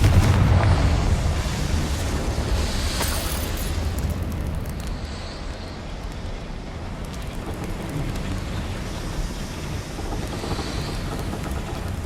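A Confringo fire spell from Hogwarts Legacy blasts with a loud, sustained roaring rumble that slowly fades but stays dense throughout, with no talking.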